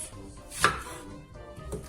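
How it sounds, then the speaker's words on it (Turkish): A single sharp knife chop through onions and peppers on a cutting board, then a softer second cut, with quiet kitchen background between. "bu sırada soğan ve biberlerimizi de doğruyoruz"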